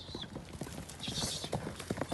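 A young horse's hooves clip-clop in a quick, uneven patter at moderate distance over a short stretch, fairly faint, with no talk.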